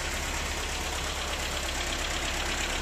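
Mercedes-Benz M102 engine, converted from carburettor to distributorless EFI, idling at a very constant RPM, with a steady, even mechanical hum and faint knock close by, without speech.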